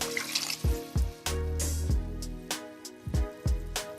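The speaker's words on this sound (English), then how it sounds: "I'm also going to add in my water." Water splashes into a goulash pot with beef broth in it, the liquid gurgling and slapping in several uneven bursts amid a steady bubbling simmer, close and fairly loud.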